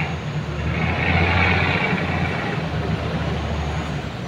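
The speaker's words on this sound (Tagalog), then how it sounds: "ang ingay nitong truck na to" A loud truck rumbles past on a street, its heavy low engine roar swelling and staying steady throughout without any talk over it.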